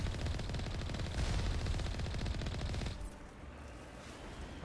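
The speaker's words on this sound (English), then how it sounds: "We are being shot at from somewhere." Gunfire in the video game Mass Effect Legendary Edition, a fast automatic burst of shots lasting about three seconds, fairly quiet and distant, then cutting off to a low rumble.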